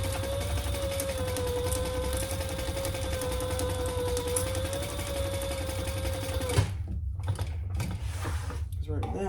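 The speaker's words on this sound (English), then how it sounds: "now I'm just going to baste this in place." A sewing machine basts two right-sides-together lining pieces of a zippered sling bag, running steadily and close for most of the stretch, then stopping into quieter handling noises near the end.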